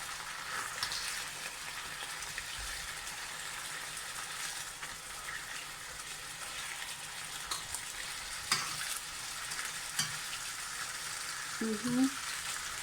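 Lean pork and green beans stir-frying with garlic in a little olive oil, a steady soft sizzle with occasional clinks and scrapes of the utensil being turned near the end.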